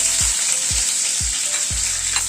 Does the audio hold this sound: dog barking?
no